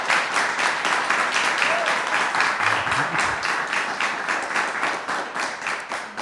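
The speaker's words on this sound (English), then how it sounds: "Great, let's clap." An audience claps steadily and close by for several seconds, the applause holding even with no pauses and no voices over it.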